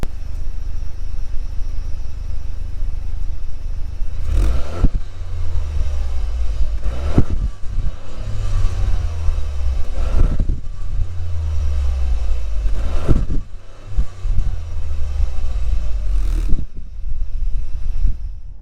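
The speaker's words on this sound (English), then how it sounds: "So I'll give you a bit of a rev from the outside" A Toyota GR Yaris turbo three-cylinder engine idling, heard from outside the car, then revved several times in short bursts, each rising roar dropping back to a low rumble.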